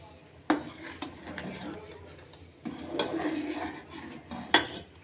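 Egg being stirred in a pan, with a few sharp utensil clinks and scraping strokes. A voice talks over much of it.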